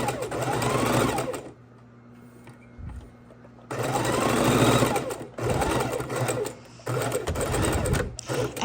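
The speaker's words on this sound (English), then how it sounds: "we're taking our sandwich, if you will, to the sewing machine" A sewing machine stitches a quarter-inch seam around a fabric drink coaster, running in loud, steady mechanical bursts close up, stopping for a pause, then resuming in several shorter runs.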